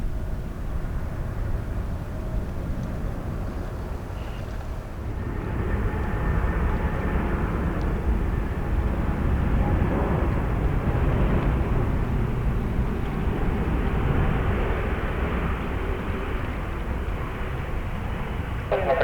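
Jet airplanes at JFK airport roar steadily and loudly throughout, with the engine noise swelling a few seconds in and holding as an aircraft passes nearby.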